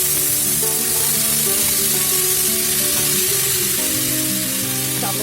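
Loud, steady sizzling as washed rice fries in hot oil with cumin and bay leaf for matar pulao, a continuous crackling hiss with no talking.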